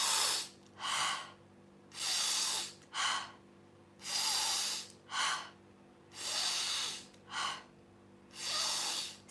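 Slow, deep breaths in and out during a guided relaxation exercise. Each inhale and exhale is a soft, airy rush, close and alone, repeating in an even rhythm with short quiet gaps between them.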